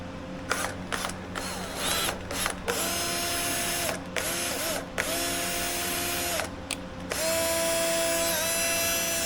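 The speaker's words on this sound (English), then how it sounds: "I think my drill might be dying." An electric drill whirs in long, steady stretches broken by brief stops, with ratcheting mechanical clicks, loud and close, while working on a metal trailer jack handle.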